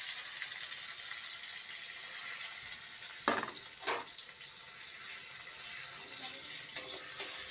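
Chopped tomatoes frying in a pan with a steady, hissing sizzle throughout, broken by a few stirring scrapes and clinks.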